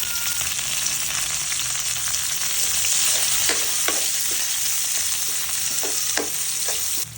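Onions sautéing in a pan for a Filipino mixed-vegetable dish give a steady, loud sizzle, with soft clicks and scrapes of stirring breaking through now and then.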